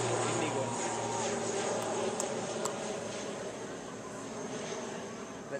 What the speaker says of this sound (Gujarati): જો વિમાન દોડ્યું હોય દીવને એરપોર્ટ પરથી